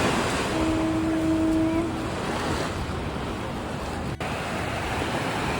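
Ocean waves wash onto a Hawaii beach in a steady, close broadband rush, with wind buffeting the microphone throughout.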